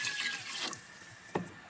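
Water pours into a pot of soup, a steady hissing splash over running liquid with a couple of brief louder sloshes, close by, with no talking.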